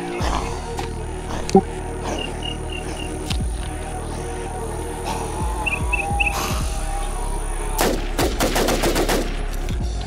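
Gunfire from a pistol in the survival game Infestation NewZ, a string of sharp shots popping through the scene, with a rapid burst of several shots near the end and faint bird chirps in the background.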